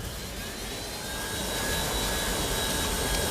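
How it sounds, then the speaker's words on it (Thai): A Jisulife Sun Life 1 umbrella fan runs at its lowest speed setting, giving a steady, close whirring hum with a faint high whine that holds constant for the whole stretch. "อ๋อพัดลมมี3เบอร์นะครับเดี๋ยวผมลองเปิดให้ฟังดูนะเบอร์หนึ่งนะครับ"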